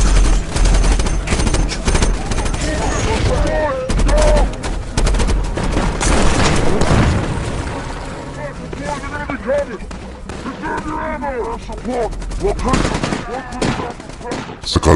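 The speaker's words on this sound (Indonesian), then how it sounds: "Lake terkena rentetan tembakan dari senapan serbu pemberontak" Dense, rapid bursts of automatic rifle fire crackle throughout, mixed with shouting voices and chaotic battle noise.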